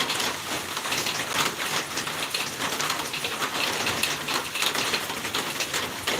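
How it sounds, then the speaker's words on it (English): Steady rain falling outdoors, a dense even patter of drops on surfaces with no voices, continuous and moderately close. "we're just out listening to the rain"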